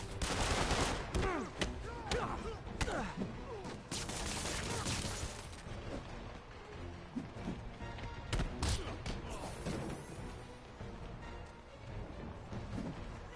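Gunfire in the Marvel's Spider-Man video game: rapid bursts of shots and heavy thuds amid loud combat noise, densest at the start and thinning into scattered impacts over about thirteen seconds.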